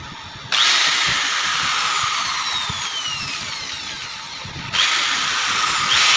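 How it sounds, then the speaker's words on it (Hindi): A power drill fitted with a 4 mm bit bores a hole, with a loud, steady high-pitched whine that starts, runs several seconds, briefly dips, then surges again. "ड्रिल मशीन में ये 4 mm का हमने बर्मा लगाया हुआ है और यहाँ पर हम ऐसे सुराख करेंगे"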